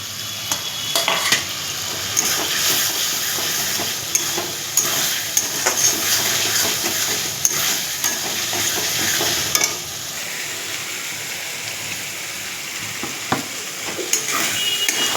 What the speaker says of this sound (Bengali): আলু দিয়ে ভালো করে কষিয়ে